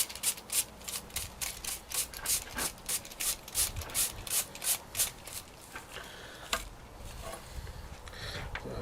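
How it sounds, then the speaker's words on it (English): A fine tool scratches detail into setting concrete while a broken concrete bench corner is repaired, with rhythmic close scraping strokes that grow less regular toward the end. "You can scratch a little more detail into it. Get in there with a finer tool."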